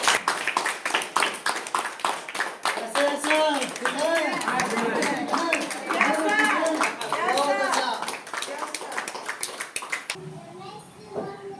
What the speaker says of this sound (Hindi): सो आप सभी अपनी तालियों के साथ उमेश सर का स्वागत करेंगे।